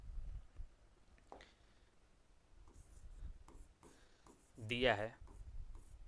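Pen writes on paper while a maths problem is worked out, giving faint scratchy strokes in short bursts, with soft spoken words partway through.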